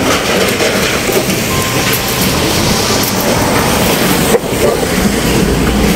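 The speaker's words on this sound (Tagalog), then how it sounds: "Lakas ng ulan, nabutan ako sa daan." Heavy rain pours down on a cyclist caught out on the road, a loud continuous hiss of downpour with a brief dip in level partway through.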